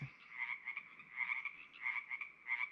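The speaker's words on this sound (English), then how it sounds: "I think that's Pacific tree frog." Pacific tree frogs croaking in a wetland, a steady chorus of repeated ribbits pulsing in rhythmic bursts at moderate distance, with no voices over them.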